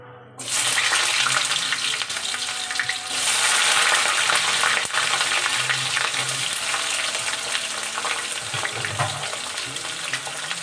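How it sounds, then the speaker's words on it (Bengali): Potatoes hit hot oil already tempered with cumin seeds, bay leaf and a dried red chilli, bursting into a loud, dense sizzle that swells and then holds steady and close for the rest of the stretch, with no talking. "এবার আলুগুলো ছেড়ে দেবো।"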